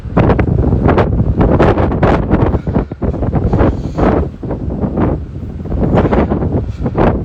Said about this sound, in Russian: Хочу дождаться, когда ветер свистит.